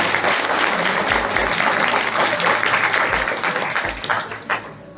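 Sustained applause from a crowd at a Class 12 school farewell ceremony, dense and loud for several seconds before thinning out near the end.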